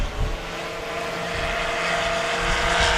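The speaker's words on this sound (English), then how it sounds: "Watch what he can do with this airplane. You're going to hear it just make a lot of noise." A sport-class STOL competition airplane's propeller engine roars steadily and loud at close range as it takes off at an airfield, the drone holding and slightly rising with no talk.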